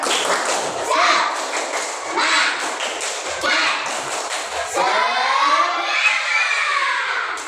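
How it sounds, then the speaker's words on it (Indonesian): Elementary school pupils in a classroom perform a rhythmic group clap chant, the tepuk semangat. Bursts of clapping and thumping mix with children chanting and shouting together, loud and close, followed by lively children's voices. "Tepuk semangat"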